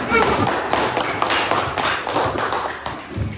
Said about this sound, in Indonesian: Tepuk tangan untuk Lena ya.